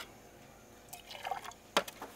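Hot water poured into a sticky bread dough mix of flour, yeast and sugar for camp oven bread, heard as a few brief, faint splashy trickles and drips after a quiet start.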